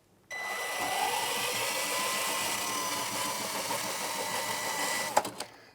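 A power drain cleaning auger runs steadily with a continuous mechanical whirring hum at moderate volume, ending with a brief rattling clank.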